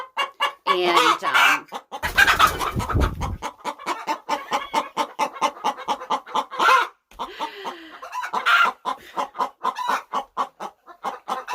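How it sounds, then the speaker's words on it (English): A backyard hen sings the egg song, a long run of loud, rhythmic clucks with occasional raised squawks and crowing-like calls, close by, with a brief spoken word mixed in. "Yeah, so that is the egg song"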